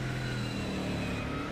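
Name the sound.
Mustang GT3 race car squeaky brakes being dragged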